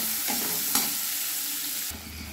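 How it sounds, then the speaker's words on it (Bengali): Spices fry in oil over medium heat for a hotel-style egg curry, making a dense, steady close sizzle with a brief stirring scrape; the tone shifts near the end, and no voices are heard. "এবার মশলাগুলো আমি একটু ভেজে নেব, মিডিয়াম আঁচে আমি ভেজে নেব যাতে লাল লাল না হয়ে যায়"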